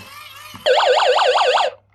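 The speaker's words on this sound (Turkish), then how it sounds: "siren kısmını aldım bu hoparlör simgesine bakın çevirdikçe ötecek" A DEGEN DE13 emergency radio sounds its built-in siren: after a soft click, a loud, steady warbling electronic wail rises and falls about five times in quick rhythm, then cuts off abruptly.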